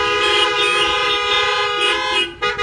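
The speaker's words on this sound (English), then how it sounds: "Let's give her a great big horn honking." Loud, sustained car horns honking together for a few seconds as applause at a church service, a dense continuous blare with a brief dip near the end.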